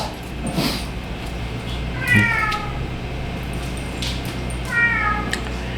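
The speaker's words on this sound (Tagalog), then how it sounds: "magmimiyaw yung mga pusa, sakto talaga tuwing nagbe-video tayo" Cats meow indoors during a test of a Smarttail automatic water dispenser, with two or three drawn-out calls spaced a few seconds apart over a constant background hum.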